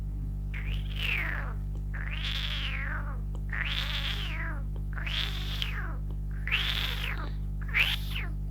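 A voice imitates a jungle cat's call, giving six drawn-out, wavering meow-like cries at regular intervals over a low steady hum.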